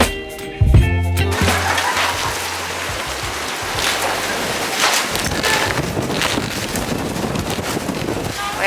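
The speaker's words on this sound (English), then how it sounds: "the wind is very strong" Strong wind buffets the microphone outdoors at a hillside culture village in Busan, a loud continuous roar and rumble after a brief quieter start, with faint background voices mixed in.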